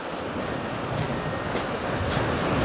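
A swollen river churns with rough, choppy waves after heavy runoff, a loud, continuous rushing roar heard close with no voices.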